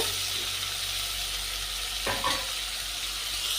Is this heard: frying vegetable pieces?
yes